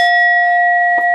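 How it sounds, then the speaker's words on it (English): A single bell struck once, ringing out with a bright, sustained metallic tone that holds steady through the whole second, loud and close, with a faint second touch near the end. "I'm going to ring the bell, so cover your ears if it's too loud"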